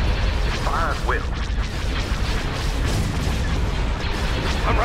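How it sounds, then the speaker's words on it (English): Constant dense barrage of booming weapons fire and explosions from a space battle in the strategy game Thrawn's Revenge, Empire side, loud and unbroken, with brief electronic chirps and radio-style voice lines layered over the roar. "All battery commence firing. Fire at will."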